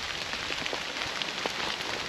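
Steady rain falling outdoors in bad weather, a continuous soft hiss with faint scattered drop patters, even and unbroken, with no one speaking.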